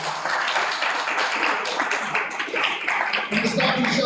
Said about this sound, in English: One more time, a round of applause, please.